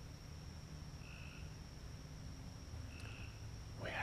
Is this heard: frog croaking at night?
yes